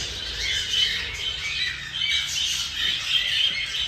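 Small birds in breeding season, with a newly hatched chick among them, give steady overlapping squawks and chirps close by, a continuous busy chatter with no one talking.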